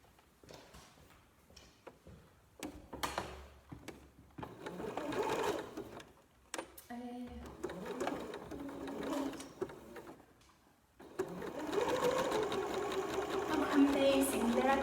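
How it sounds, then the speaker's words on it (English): A sewing machine backstitching T-shirt fabric, rapid mechanical stitching bursts that start and stop, then a longer steady run, with people talking over and between them. "put the foot down and do a back stitch"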